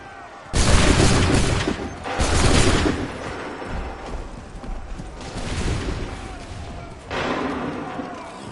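Musket volleys ring out in Assassin's Creed 3 Remastered: four loud, crashing bursts of massed gunfire, each rolling briefly before fading, spaced a second or more apart over a low rumbling background.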